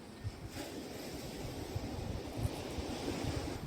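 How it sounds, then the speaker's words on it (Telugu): Big waves on a rough sea crash and roll continuously near a brackish backwater inlet, a steady surging roar with gusty wind buffeting the microphone and no voices. "ఇలా నీరు మీద ఉన్నప్పుడు అండి పెద్ద పెద్ద కెరటాలు వస్తాయండి"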